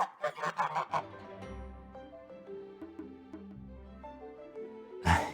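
A goose honks in loud, choppy bursts at the start and again in a sharp blast near the end, with soft sustained musical tones filling the stretch between.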